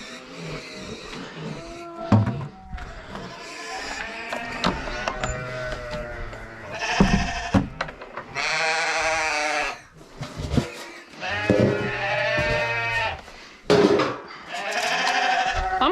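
Sheep on a ranch bleat loudly and repeatedly during evening chores, several close, wavering calls overlapping one another with farmyard noise between them.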